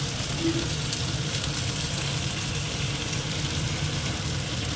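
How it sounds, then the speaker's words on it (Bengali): Flat beans (sim) frying in a pan with mustard paste, a steady low crackle and hiss that stays even and close throughout. "আর এদিকে আমি সিমটাও বসিয়ে দিয়েছি একটু ভেজে নিচ্ছি সিমগুলো"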